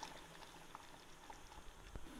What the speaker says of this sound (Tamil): இப்போ குழம்பு நல்லா கொதிச்சிருச்சு, பச்சை வாசனையும் போயிடுச்சு.